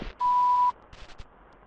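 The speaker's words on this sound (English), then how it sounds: "Please leave your name and phone number after the beep." An answering machine beep from the video game Shipwrecked 64 rings out as a single steady electronic tone lasting about half a second, clear and close, followed by faint soft clicks.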